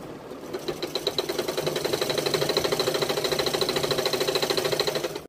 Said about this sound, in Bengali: এই যে দেখো এখন এটা সেলাই করছি আমি